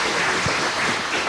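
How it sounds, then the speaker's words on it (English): Steady, dense applause from a conference audience at an interfaith discussion event, a continuous wash of many hands clapping at even loudness throughout. "Would you give her a round of applause?"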